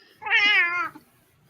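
A cat gives a single clear, close meow, loud and drawn out for just under a second, with nothing else around it.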